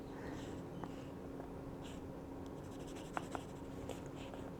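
A TWSBI Eco fountain pen writes on notebook paper in a soft, continuous scratching over a steady background hiss, with a few faint taps along the way and no voices.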